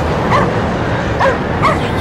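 A dog in a survival horror video game barks and yips in three short bursts spaced about a second apart, loud and close over a dense background hum.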